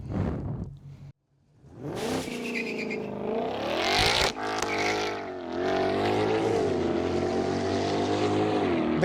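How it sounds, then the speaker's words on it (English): A Ford Mustang GTD pulls away on track in track mode. The engine drops out briefly, then roars up hard and loud through rising revs, with a sharp gearshift break before it settles into a sustained, close, powerful drone. "The correct way to set off in a Mustang GTD there"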